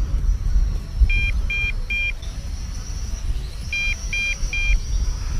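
MJX X104G GPS drone low-battery warning, two groups of three short electronic beeps separated by a pause, heard over wind and outdoor background rumble.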